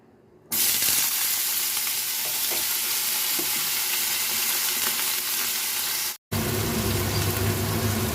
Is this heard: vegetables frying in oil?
yes